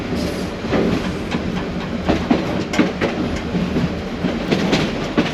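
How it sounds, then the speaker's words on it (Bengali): A local train on the Dhaka–Narayanganj line rumbles steadily across a railway bridge, with clickety-clack wheel beats and metallic rattles rising from a continuous loud roar, close by. "এই রেল সেতু উপর দিয়ে কিন্তু ট্রেন চলে যাচ্ছে"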